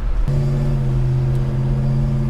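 A 1965 Chevy Malibu SS with a 502 engine pulls hard in second gear, a loud close rumble that steps up sharply into a sustained droning pull after a brief opening.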